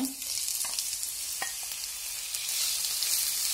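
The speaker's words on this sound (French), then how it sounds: "dans une poêle chauffée avec un filet d'huile, je commence par mettre l'oignon" Chopped onion sizzles in a heated pan with a drizzle of oil, a steady close hiss throughout with a few soft taps of stirring and nobody speaking.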